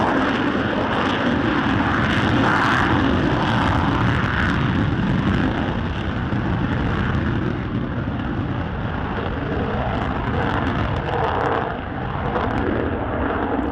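A Boeing F/A-18F Super Hornet at the RAAF Edinburgh airshow, its twin General Electric F414 turbofans on afterburner, gives a loud, continuous roar that stays powerful throughout and eases slightly toward the end.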